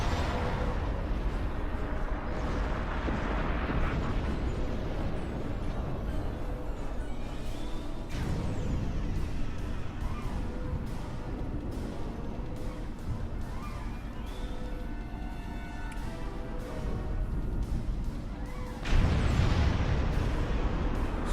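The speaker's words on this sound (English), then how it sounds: "Explosions everywhere." Explosions in the video game Star Trek Online during an escape from the Borg, repeated booms and bursts rolling over a dense bed of game music and effects, with a heavy blast near the end.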